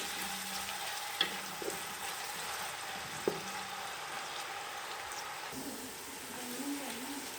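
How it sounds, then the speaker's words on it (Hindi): Onions fry in ghee for beef nihari, a soft steady sizzle with a few sharp clicks and light scraping of stirring, fairly quiet and without speech. "इनको हम फ्राई करेंगे, इन प्याज़ों को।"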